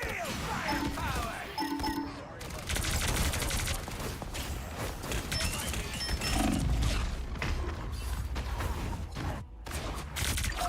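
Dense bursts of gunfire and explosive impacts from a Marvel Rivals ranked match, loud and nearly continuous, with crashes and booms layered over each other.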